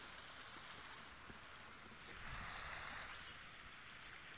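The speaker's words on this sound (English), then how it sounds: "Get a nice rustle of water going through." Steady rushing water flowing through a channel, a soft continuous hiss that swells slightly midway, with no voices.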